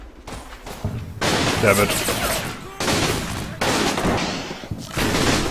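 Panzerschreck rockets and gunfire in Combat Mission: Battle for Normandy, loud overlapping bursts and thuds in repeated volleys, with someone speaking over the battle.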